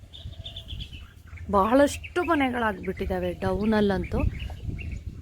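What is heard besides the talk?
birds chirping outdoors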